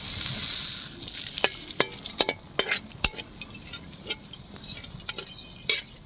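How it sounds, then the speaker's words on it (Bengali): Bay leaves and dried chillies frying in a little oil, a steady sizzle at first with sharp spits and crackles popping out irregularly as the spices fry, close and fairly quiet. "লঙ্কাটা তেজপাতাটা ভাজা হয়ে যেতে"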